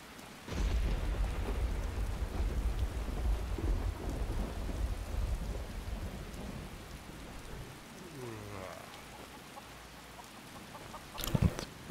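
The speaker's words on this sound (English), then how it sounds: "Still raining, damn it." Steady rain pours in the video game Skyrim, near Helgen, with a low rumble of thunder, fading toward the end as a rooster-like call and a sharp burst break through.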